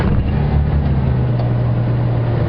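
A safari vehicle's engine runs in a loud, steady low rumble and idles evenly close by, with no voices over it.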